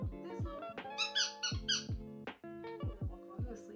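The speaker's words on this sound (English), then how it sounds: "this little squeaky toy" A small squeaky dog toy for a peekapoo puppy is squeezed repeatedly, producing rapid, bright, rubbery squeaks in an uneven rhythm, close and clear.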